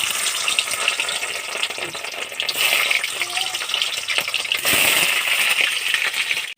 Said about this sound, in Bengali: আমি প্রথমে পনিরগুলোকে একটু ভেজে নিচ্ছি।